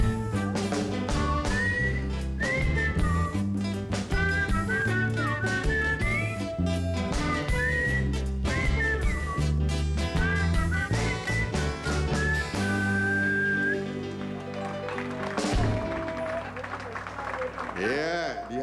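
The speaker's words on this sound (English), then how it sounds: "Let me hear all you could whistle, man." A man whistles a melodic tune during a live show at the Normandie Hotel, steady and prominent over backing music, trailing off near the end as the music fades.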